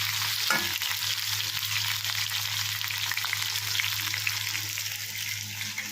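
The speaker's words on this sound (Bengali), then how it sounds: "এবার ভালো করে ভেজে নিচ্ছি" Chicken pieces coated in Kashmiri chilli powder fry in a pan with a continuous, dense sizzle, close and steady, broken by a brief stir near the start.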